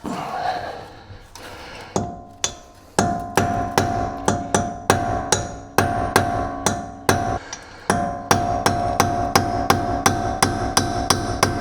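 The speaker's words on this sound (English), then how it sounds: "so I'm going to give her a couple taps here. All you want to do is just loosen it up." Hammer blows ring out on a Chevrolet lower ball joint in a garage. The metallic strikes come close and loud in a fairly steady rhythm, dozens in a row with brief pauses between bursts, and each one pings.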